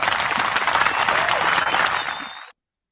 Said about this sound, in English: Oh man, get a hand clap for that.